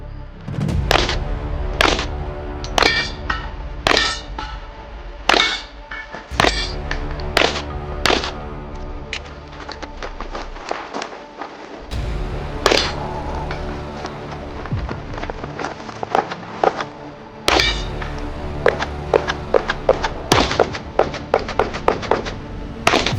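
Rapid pistol gunshots at an IPSC shooting competition, sharp cracks fired in quick strings with brief gaps for a reload, loud and close across a long stage run.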